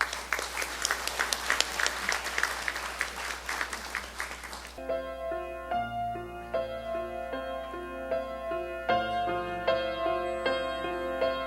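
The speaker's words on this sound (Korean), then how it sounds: "큰 박수로 맞아주시기 바랍니다." Applause at a university graduation ceremony in a hall, a dense crowd clapping for several seconds before it stops abruptly and piano music takes over.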